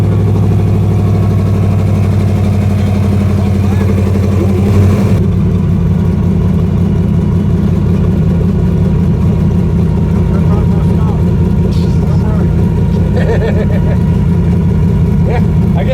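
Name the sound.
truck engine idling while coasting to a stop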